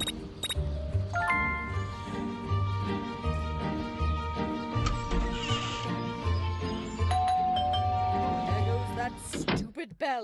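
A doorbell chimes in the video game Scary Teacher 3D, with sustained electronic tones sounding over busy game music and effects, fairly loud.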